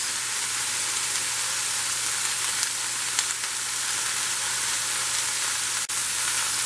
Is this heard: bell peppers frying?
yes